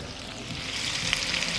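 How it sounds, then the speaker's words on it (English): A garlic dish still sizzling in its pan, a faint, steady crackling hiss heard close and alone. "Still sizzling."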